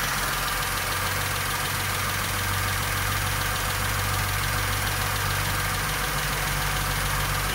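A rebuilt 1.2-litre 12-valve Seat Ibiza engine idles steadily, with a low, even hum and faint mechanical ticking held at close range throughout, and no talking.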